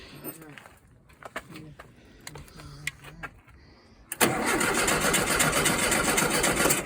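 A sand rail's engine is started after a coil repair. People talk over faint clicks, then the engine catches abruptly and runs loud and steady, close by.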